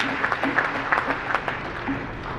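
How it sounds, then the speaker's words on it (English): Applause from the audience at a university event at IIT Delhi, heard as a short burst of scattered claps in a hall, moderately near, with some faint background voices. "So please give a huge round of applause for her."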